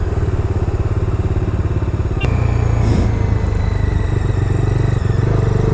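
A 2022 Bajaj Dominar 250 BS6 motorcycle being ridden, its engine a steady loud drone with a brief clunk partway through and rising intensity afterward, no speech.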